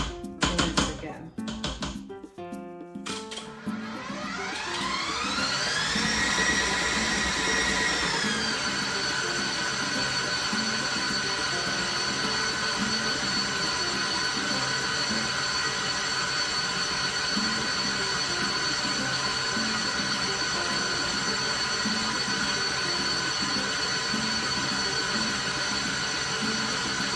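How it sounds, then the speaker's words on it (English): A stand mixer blends Southern pound cake batter: after a few seconds of clatter and handling, the motor spins up with a rising whine and then holds a steady, loud hum to the end. "put it back on the mixer and"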